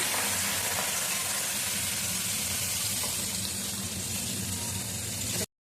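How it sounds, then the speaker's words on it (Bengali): Small tengra fish, rubbed with salt and turmeric, fry in hot oil in a wok. The sizzle is loud, steady and close, with a dense hiss that runs unbroken and then stops abruptly near the end. "এবারে নুন হলুদ মাখানো ছোট ট্যাংরাগুলো আমি কড়াইতে দিয়ে দিলাম।"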